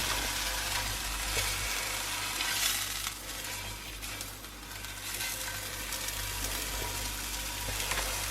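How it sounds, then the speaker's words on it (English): Sausages sizzle and crackle in a hot frying pan, a steady, close hiss with occasional spits and a low hum underneath, without any talking. "put the sausages in the pan."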